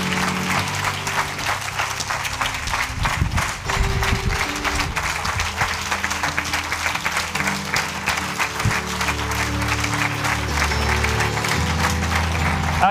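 A church congregation at a Pentecost service applauds and cheers the Lord, filling the room with sustained, loud clapping and crowd noise from start to finish.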